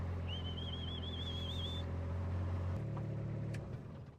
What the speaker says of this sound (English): our cattle call here at the ranch. Good old whistle.